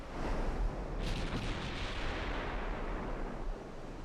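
Battleship main guns firing in Ultimate Admiral Dreadnoughts, a loud, deep roar of artillery with heavy booming blasts rolling into one sustained rumble, thick and close for the whole stretch.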